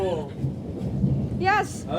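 Thunder from a lightning bolt during a rainstorm rolls as a broad, low rumble that fills the whole stretch, with rain beneath it and excited voices breaking in over it.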